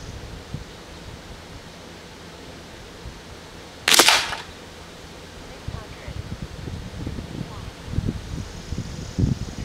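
A single sharp crack from a Seneca Dragonfly Mk2 pump airgun firing a Crosman Premier hollow point pellet stands out clearly over quiet outdoor rustle and wind, followed by soft handling noises.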